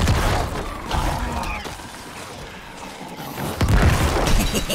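Booming blasts and crashing debris from explosions in the video game Diablo 4, loud and dense, with a heavier burst of impacts near the end.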